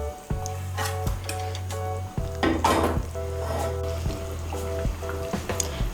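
Fried eggs being stirred into a cauliflower and potato curry sizzling in a pan, a steady crackling fry with a low hum, broken by several scraping stirs and clinks of the spoon, close up.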